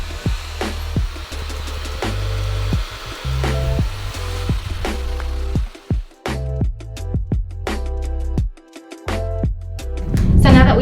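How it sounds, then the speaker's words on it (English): Dyson hair dryer fitted with a diffuser runs at low speed and low heat with a continuous close whooshing airflow, with fluttering and muffled rustling as it moves through braided hair, briefly dropping out twice. "I'm gonna go in and use the Dyson diffuser"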